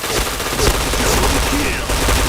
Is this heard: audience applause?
no